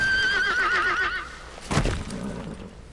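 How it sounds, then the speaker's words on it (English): A horse in the video game Metal Gear Solid V: The Phantom Pain gives a clear, close whinny, followed by a brief snort. "My horse must be a mare."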